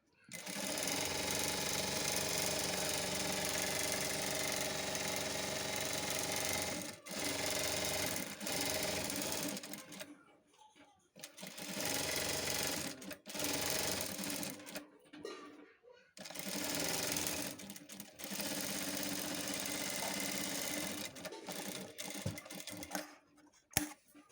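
A sewing machine stitches along a folded-over edge of blouse cloth, running loud and close in long whirring bursts separated by short pauses.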